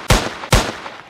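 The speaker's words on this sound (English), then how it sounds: "We're in shootout now." Two sharp, loud gunshots ring out about half a second apart during a shootout in the police game Emergency Response, each with a short decaying tail, with no talk over them.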